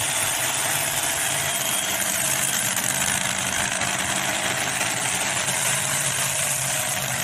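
A modified pulling tractor with twin blown Hemi engines idles at a tractor pull event, giving a steady, loud, unbroken mechanical roar with no breaks.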